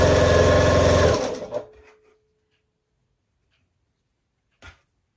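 A sewing machine stitches quilt triangles from leftover scraps in a steady loud run that winds down and stops after about a second, followed by quiet and one brief clunk.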